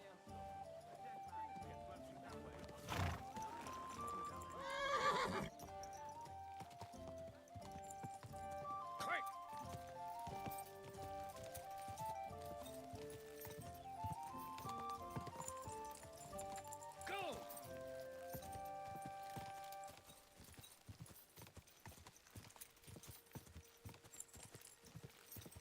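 A horse in the medieval video game Kingdom Come: Deliverance 2 whinnies loudly, and its hooves clip-clop on and off in a quiet setting, heard under voices talking.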